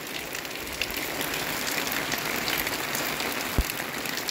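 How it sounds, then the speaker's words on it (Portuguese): Rain falls on a Sunday afternoon in Jataúba, Pernambuco, Brazil, a steady, even hiss throughout with one brief dull thump near the end. "Chovendo aqui em Jataúba"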